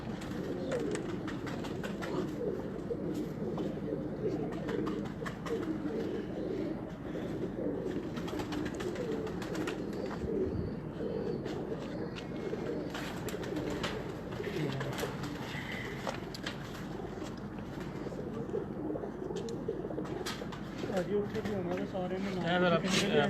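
Pigeons keep cooing on a rooftop in soft, repeated low calls, while people talk nearby throughout.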